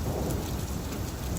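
A storm in a jungle setting pours steady, dense rain with deep rumbling thunder underneath, a continuous wash of noise from start to end with no voices.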